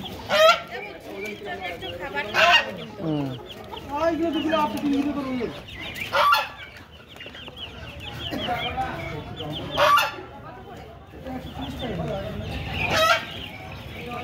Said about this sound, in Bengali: আর ওই পাশে মুরগি আছে। হাঁসের বাচ্চা, মুরগির বাচ্চা।